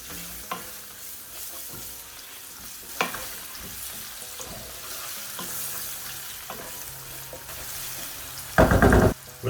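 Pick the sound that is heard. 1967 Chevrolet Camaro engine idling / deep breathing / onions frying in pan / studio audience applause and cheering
onions frying in pan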